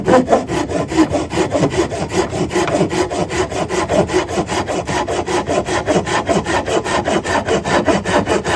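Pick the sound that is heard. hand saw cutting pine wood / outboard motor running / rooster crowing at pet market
hand saw cutting pine wood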